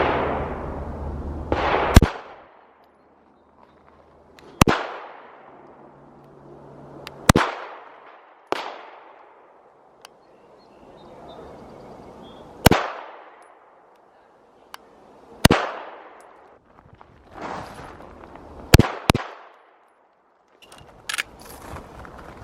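Glock 43 handgun fired at a shooting range: sharp, loud single shots spaced several seconds apart, about eight in all, each with a ringing decay, and no talk between them.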